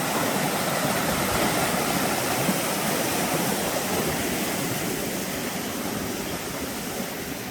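A river rushes beside the Appalachian Trail, a loud, continuous broadband roar of flowing water that holds steady with no voices.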